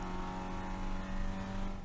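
A race car accelerates hard up the front straightaway at Virginia International Raceway, its engine holding a loud, steady, droning tone from close by in a brief, continuous burst.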